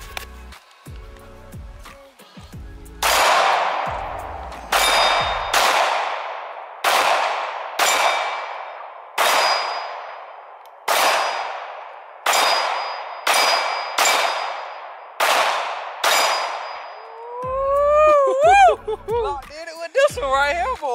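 A Glock pistol fires a steady string of about a dozen shots, each one followed by a bright ringing clang from steel targets. The shots sound loud and evenly spaced, and a voice speaks briefly at the end.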